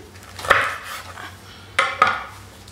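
A chef's knife trims a poivrade artichoke on a board, giving three crisp cutting clicks: one alone, then a close pair just over a second later, each with a short scraping tail, and no talk.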